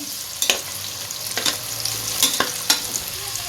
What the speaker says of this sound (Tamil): நீங்கள் சின்ன வெங்காயம் இருந்தால் சின்ன வெங்காயம் சேர்த்துக்கிடுங்க லைட்டாக வதக்கி விட்டுருவோம்